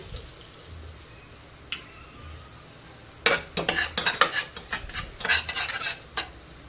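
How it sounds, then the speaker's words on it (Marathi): A spoon stirs cumin into pav bhaji in a pan: quiet at first with a couple of faint taps, then a run of scraping, clinking strokes against the metal over a light sizzle. "चमच्याने हलवून थोडेसे जिरे टाकूया"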